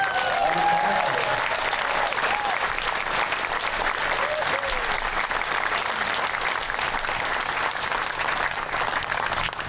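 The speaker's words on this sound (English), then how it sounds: "how about a big round of applause for that Navy band?" Sustained applause from a large crowd for a Navy band at an outdoor event, steady and loud throughout with dense clapping filling the whole stretch.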